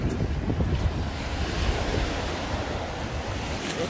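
Ocean waves break against rocks at Riscalillo beach in Huatulco, Oaxaca, a steady loud wash of surf with wind buffeting the microphone throughout and no voices.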